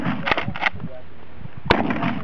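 Pistol grip 12 gauge shotgun fired outdoors, two sharp loud blasts about a second and a half apart, with people talking between them.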